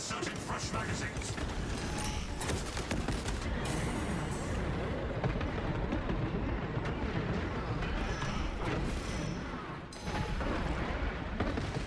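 A mechanical servo gun hammers out sustained automatic fire in the Warhammer shooter Space Marine, loud and relentless with ratcheting mechanisms and explosive booms layered in, while voices speak over the din.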